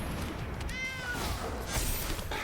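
A cat meows once in an MTG Arena digital card game match, a short faint gliding call over a steady background of game music and ambience.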